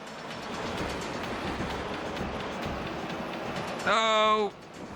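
Train rolling along the tracks in the PS1 off-road racing game Test Drive: Off-Road, a steady rumbling wash with a loud horn-like harmonic blast near the end, over game engine noise.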